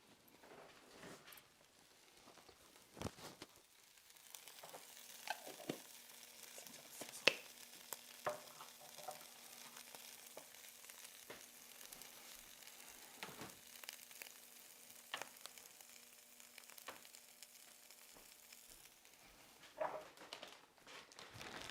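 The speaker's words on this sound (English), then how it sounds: "We're just gonna show you that while it sizzles." Steady low crackling sizzle of a pizzadilla cooking on a hot griddle, with occasional sharper pops and clinks of a utensil scraping, no voices.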